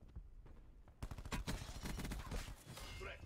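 Rapid gunfire in the video game Black Ops 4 starts abruptly after a quiet second, a loud, close stream of shots with short pauses that continues to the end, with a player talking over it.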